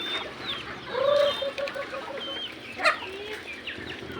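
Chickens cluck softly in a few short, scattered bursts against a quiet background.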